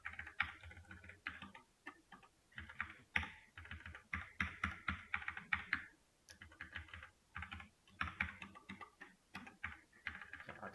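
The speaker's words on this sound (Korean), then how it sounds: "그냥 타이핑을 하죠." Someone types on a computer keyboard in bursts of rapid, close clicking, pausing briefly between runs of keystrokes.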